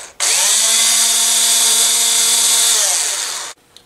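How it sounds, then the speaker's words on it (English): A small number 56 drill bit bores through a wooden belt piece on a snowman carving, a single loud whining power-drill burst lasting about three seconds before it stops. "So with my number 56 bit, I'm going to drill a hole through the belt with"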